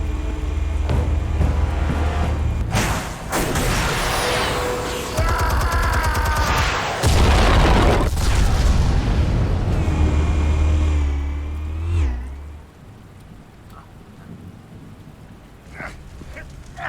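Armed explosives go off in the Batman Telltale game, with heavy booming blasts and crackling, rumbling debris. The detonations are loud and dense through the first part, then fade to quieter rumbling.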